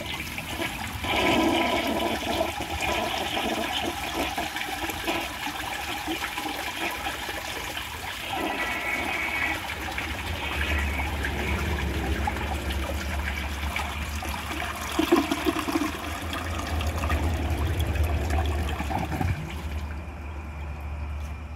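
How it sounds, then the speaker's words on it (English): A 1984 Kohler Cayuga toilet flushes a washcloth down: a steady, close rush of water runs throughout, then trickles and refills toward the end, with no talking. "Now let's do a washcloth test."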